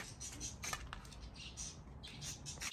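Pet birds kept at a home squawk and chirp in short, bright bursts, fairly faint and scattered over a soft background hiss.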